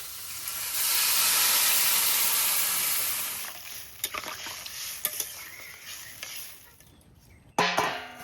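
Water hits a hot pan of frying crab and taro curry, bursting into a loud hiss that fades over a few seconds, followed by scattered stirring clinks and scrapes.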